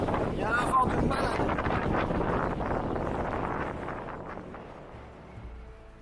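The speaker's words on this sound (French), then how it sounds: "Il y a un vent de malade." Strong wind buffets a microphone on a mountain under fast-moving clouds, a loud roaring rush that gusts early on and slowly eases toward the end.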